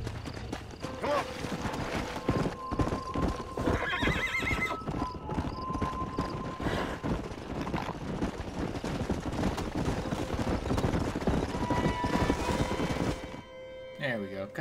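Repeated horse whinnies over steady clip-clopping hooves, loud and close, with busy game-style background sounds and occasional sharp bangs, from a bucking horse in Red Dead Redemption.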